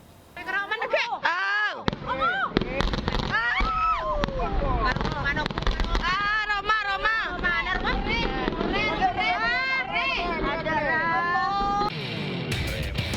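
A dense barrage of firecracker bangs and crackling pops as a hot-air balloon carrying firecrackers explodes in Indonesia, loud and continuous, with shouting and commotion from a crowd mixed in.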